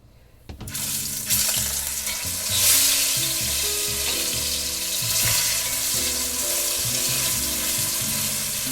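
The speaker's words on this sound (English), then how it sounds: "we're gonna put in the meat to sear it." Osso buco meat hits hot oil with a sudden loud sizzle that settles into steady, close searing and crackling, with some clattering of the pan underneath.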